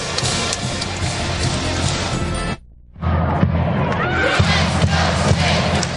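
Close to capacity, the Rec Hall crowd at a Penn State versus Cal volleyball match roars loudly and continuously. After a brief sudden dropout the roar resumes with scattered shouts on top.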